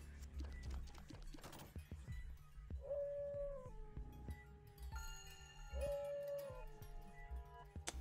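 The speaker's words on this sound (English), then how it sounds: "I hear you, Howling Dog." Two drawn-out, wavering howls from the howling dog in The Binding of Isaac: Afterbirth+ rise and hold over busy game sounds and a steady music bed, each lasting under a second and spaced a few seconds apart.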